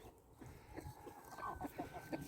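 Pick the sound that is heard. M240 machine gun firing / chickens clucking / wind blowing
chickens clucking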